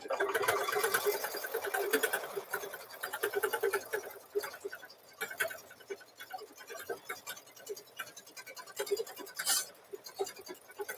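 A sewing machine stitches a quilt block in rapid rhythmic bursts, loud and close at first, then in shorter runs with pauses between, the needle chattering steadily throughout.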